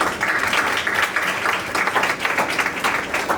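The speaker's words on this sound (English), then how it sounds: "Applause." Seminar audience at a women-in-shipping event applauding steadily, dense clapping filling the room without speech.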